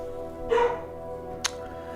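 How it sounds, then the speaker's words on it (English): A single short bark partway through, then a brief sharp yip, both against a steady humming background. "There was my dog barking at something."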